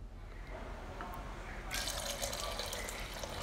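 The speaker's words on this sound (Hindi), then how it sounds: "अब मैं इसमें दो गिलास बिल्कुल ठंडा पानी शामिल करूँगी" Cold water pours steadily into a pot of Kashmiri noon chai, starting partway through as a loud, continuous splashing rush after a quieter lead-in.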